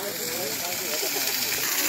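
Water gushes from the Kokaha pipeline into Dharan during a celebration, a steady broadband rush that fills the whole clip, with faint voices of a crowd mixed in underneath.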